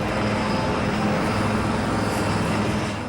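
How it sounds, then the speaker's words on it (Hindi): A Rafale fighter jet roaring with a continuous, loud, broadband engine rumble that holds steady throughout, with no voices. "राफेल की इस गर्जना और रफ्तार से रोमांचित होगा"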